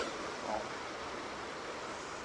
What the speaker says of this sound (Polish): Z drugiej strony jest wodospad.